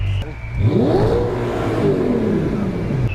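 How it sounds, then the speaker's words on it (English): An Audi R8 engine revs up sharply and holds a high, roaring whine before slowly dropping, loud and close, with no voices. "Let's do a revving competition between my Tesla Model S Performance and my R8."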